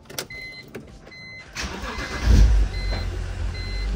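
A BMW E46 fitted with a swapped N55 engine cranks briefly, catches and settles into a low, steady idle that continues at moderate loudness, with no talking.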